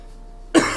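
A single sharp cough bursts out after a near-silent moment, followed by a brief throaty tail and the start of another cough at the very end.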